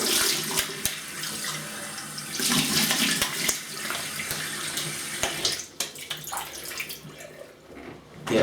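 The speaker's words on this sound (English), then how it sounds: "let me rinse it off with cold water" Cold tap water runs steadily into a sink while a face is rinsed during a wet shave with a vintage Gillette Super Speed razor. Close splashing and irregular water bursts carry through the whole stretch, with no talk.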